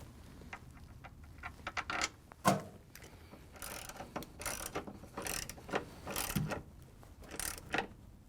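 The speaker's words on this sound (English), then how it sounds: "we can add an extension to the ratchet and put in the one in the back." Hand ratchet with an extension driving screws into a Frigidaire/Electrolux motor control board, quiet close bursts of rapid clicking at irregular intervals, with faint handling noise and no talk.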